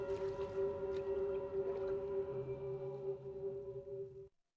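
A long, tonal underwater killer whale call holds a steady high pitch, joined midway by a lower wavering moan, before cutting off abruptly.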